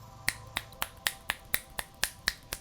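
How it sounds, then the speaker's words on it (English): Ten crisp finger snaps ring out at a steady, roughly quarter-second rhythm, close and clear, each one a sharp isolated click with nothing else heard between them. "I've always snapped my fingers whenever I unpause the game during my countdown"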